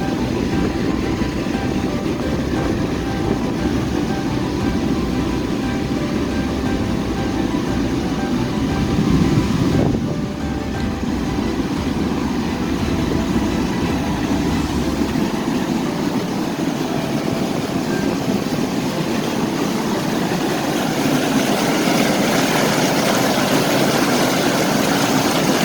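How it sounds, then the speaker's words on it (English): Water rushes over Wilkes Dam in Brantford in a loud, steady roar that holds without pause and fills the whole stretch. "you can see the force of the water and the sound of it"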